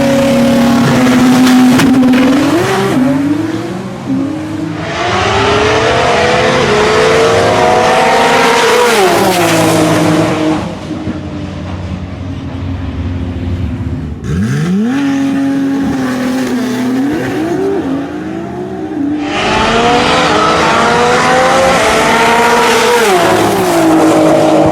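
High-horsepower 68mm turbo race car at TX2K drag event, roughly 1800 to 2000 hp, roaring loud and close with repeated rising revs and shifts, separate full-throttle passes split by brief lulls, no talking.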